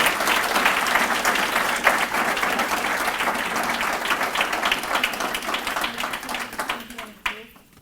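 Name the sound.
audience applause for sponsors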